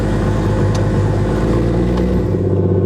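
The Barra-swapped Ford Mustang GT350 engine runs loud and close, a deep, steady rumbling rev with a rich low-end drone that holds throughout, with no talking over it.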